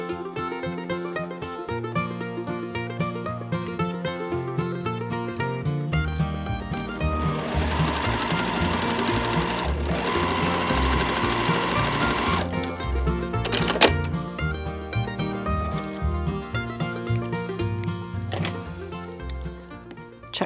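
A sewing machine stitches a quilt block in fast, rhythmic runs of needle clatter, close and loud. It pauses and changes speed between bursts, with a short break in the middle.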